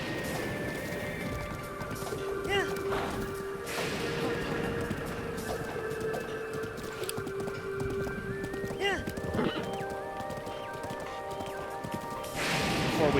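Horse riding in the Breath of the Wild video game: continuous galloping hoof clip-clops with occasional neighs and whinnies, layered over game music, with a voice talking intermittently.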